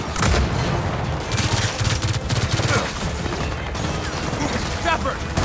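A frag grenade is thrown and bursts amid sustained rapid gunfire and heavy impacts in Gears of War 4, a loud, dense combat mix with crashing booms throughout.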